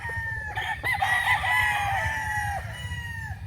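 A rooster crows in a long drawn-out call over a steady low background rumble and some scattered clucking, the crow rising then holding and trailing off over about three seconds.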